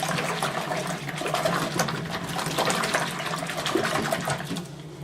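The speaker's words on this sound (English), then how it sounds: "You're going to want to swish the water around a little bit." Water sloshing and swishing steadily in a basin while washing a wool cover, a continuous wet churning that stays fairly close and even throughout.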